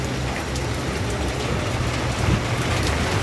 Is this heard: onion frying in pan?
no